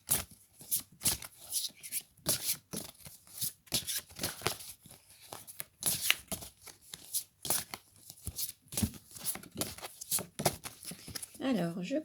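A deck of tarot cards is shuffled by hand in a repeated series of quick riffling, slapping bursts, close and crisp, with a voice talking between some of them.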